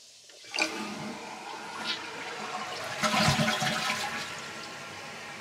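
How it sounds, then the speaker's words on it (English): A toilet flushes close by after a new Korky wax-free seal is fitted, a sudden loud rush of water that churns for several seconds before tapering into the refill. "Now I'm going to try to flush it"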